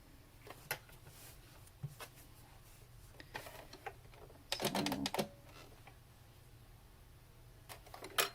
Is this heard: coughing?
no